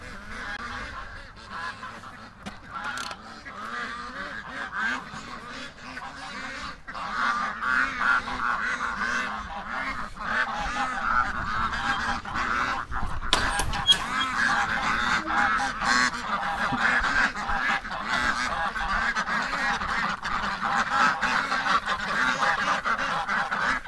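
A flock of waterfowl honking and quacking continuously at a moderate distance, many overlapping calls growing busier and louder toward the end.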